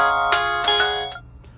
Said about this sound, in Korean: 남편 휴대폰으로 친구한테서 전화가 왔어요.